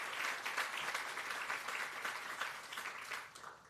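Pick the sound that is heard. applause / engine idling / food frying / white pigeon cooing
applause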